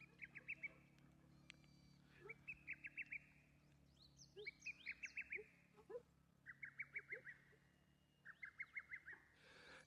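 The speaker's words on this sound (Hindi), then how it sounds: "बैकग्राउंड में आपको इस वक्त चिड़िया की आवाज़ आ रही है" Birds calling outdoors at Daman-e-Ganga: repeated short bursts of rapid, bright chirps, five or six notes each, sounding every couple of seconds at moderate distance over a quiet low hum.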